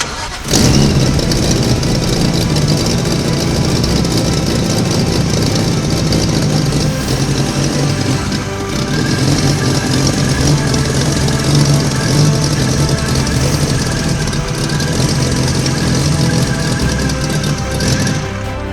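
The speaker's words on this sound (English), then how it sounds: "Our injectors aren't opening enough. But hey, it runs." A scratch-built car engine with poorly opening injectors fires up and keeps running, a loud, close, continuous rough mechanical roar that holds steady with small fluctuations throughout.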